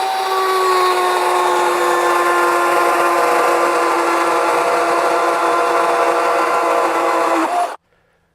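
A Skil 18-inch cordless chainsaw runs a plunge cut into wood, a loud, steady whine for nearly eight seconds before it abruptly cuts off.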